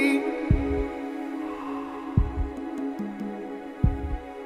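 Heartbeat sound effect in a worship song, a steady lub-dub thump recurring about every second and a half, low and prominent under a sustained musical hum.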